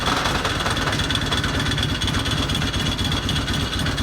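A Harley FLHT motorcycle engine runs steadily nearby, with a dense, continuous mechanical rumble and a rattling clutch plate, loud and unbroken throughout with no speech.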